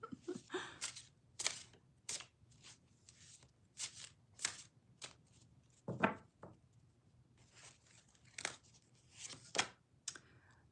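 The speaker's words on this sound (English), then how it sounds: "These are not easy to shuffle." Tarot cards being shuffled by hand: scattered crisp riffles and flicks come in short bursts with pauses between them, close and quiet, with no talk over them.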